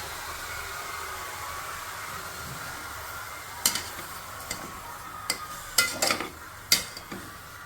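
Onions and broccoli stirred in a soup pot, with a handful of sharp scraping and clinking strokes against the pot over a faint steady background hiss, clustered in the second half.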